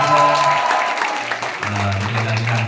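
Applause from an audience at a morning gathering, loud and dense at first, then thinning and fading out as people settle, with talk over it toward the end.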